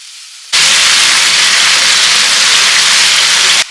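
Chicken tikka marinated in tikka masala, ginger garlic paste, red chili powder and salt hits hot oil with an abrupt, loud, steady sizzle that holds evenly for about three seconds and then cuts off.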